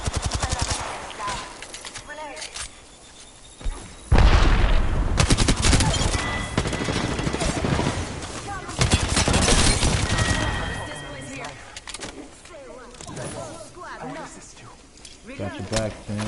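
Sustained gunfire in the video game Fallout 4, dense bursts of shots and automatic fire with loud booming hits, while a voice talks over the shooting.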